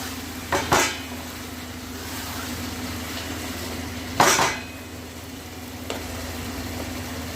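Mutton cooking in a pan gives a steady sizzle, while a few sharp metallic clanks of a utensil against the pot stand out, the loudest near the middle.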